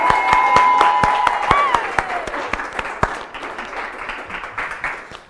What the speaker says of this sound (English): Come on, let's hear a big round of applause.